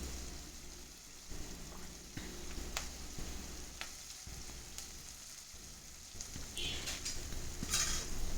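Onions and cashews sauté in a pan for paneer butter masala, a soft steady sizzle with occasional stirring taps and a brief louder scrape near the end, fairly quiet and without voices.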